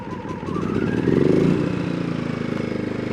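A BILT HARD 2500W inverter generator running on choke hums close by, with a steady, slightly rough engine drone that swells briefly and then settles into an even idle.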